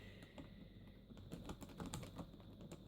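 Typing on the keyboard of a Toshiba Tecra 500CDT laptop: rapid, uneven keystroke clicks patter close and quietly over a low steady hum, with no voices.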